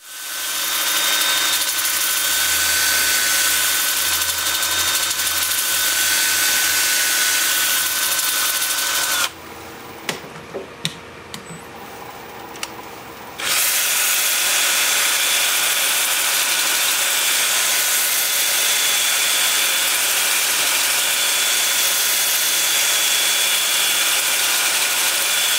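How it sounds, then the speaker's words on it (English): Loud, steady abrasive whirring of sandpaper, starting at 80 grit, against madrona wood turning on a lathe, dropping out for a few seconds midway before resuming. "Okay, time for sanding."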